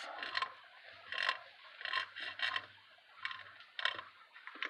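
On a 1994 Suzuki RM250 dirt bike, the drive sprocket spacer gives off faint, irregular metallic clicks and ratcheting scrapes in short bursts, close by and with no talk.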